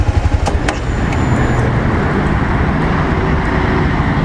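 Motorcycle engine idling loud and close while the rider shifts into first gear, a steady low rumble throughout with a few brief clicks near the start.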